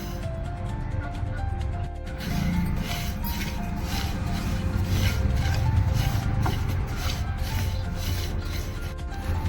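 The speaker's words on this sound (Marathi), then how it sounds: "मंद गॅसवर छान खरपूस भाजलेत." Sesame seeds dry-roast in a pan over a low flame, producing a continuous close scraping and rustling as they are stirred, steady throughout with a faint background hum.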